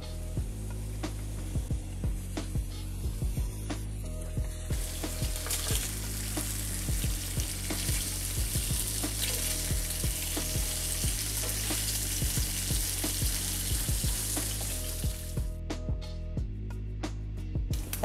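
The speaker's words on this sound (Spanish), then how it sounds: "Poner unas tiras de tocino ahumado, también a dorar" Strips of smoked bacon browning in a pan for Dominican patacón sandwiches, giving a steady loud sizzle throughout, with no talk and occasional stirring clicks and tonal background music.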